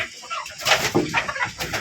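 Fayoumi chickens, part of a flock of about ninety hens on a village farm, let out a few short, near clucks and chirps in quick succession against a quiet yard.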